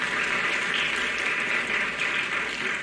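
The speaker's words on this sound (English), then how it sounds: "Give yourself a round of applause." Middle school eighth graders applaud themselves at an end-of-year awards event, a steady wash of clapping from a crowd filling the room, moderately loud and continuous without speech.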